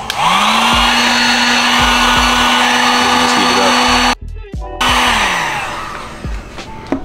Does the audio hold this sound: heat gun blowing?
yes